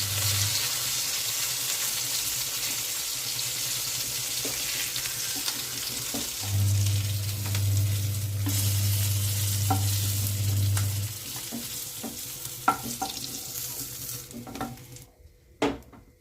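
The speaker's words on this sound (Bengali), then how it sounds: "এবার উল্টে দিচ্ছি অন্য সাইডটা ভেজে নেওয়ার জন্য" Loud, continuous sizzling of boal fish frying in hot oil in a wok, with occasional clatter of a utensil against the pan near the end as it is flipped.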